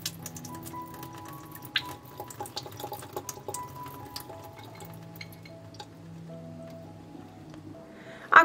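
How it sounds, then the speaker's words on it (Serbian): Clean water runs and patters over seeds being rinsed of salt in a strainer, with light drips and small clinks close by, ending in a brief louder splash. "I opraću seme čistom vodom od soli."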